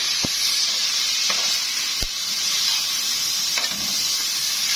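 Onions, green peppers and chopped tomatoes fry in a pan with a loud, steady sizzle and hiss, broken by a few sharp knocks of a spoon as the mixture is stirred.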